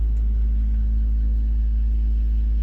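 A loud, steady low bass rumble from a big black Jeep's car stereo amp passing by, thumping heavily, holding constant throughout with deep tones dominating and no talking.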